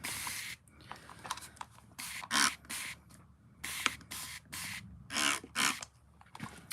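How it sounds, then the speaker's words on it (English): Several short bursts of aerosol spray paint hissing, close by, separated by brief pauses with quiet rustling in between. "Now I'm going to spray it again."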